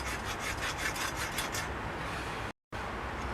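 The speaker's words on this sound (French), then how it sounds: "La lime n'est pas terrible" A hand file rasps against a hard steel shotgun part in steady back-and-forth strokes, close and fairly quiet, then stops briefly near the end before resuming.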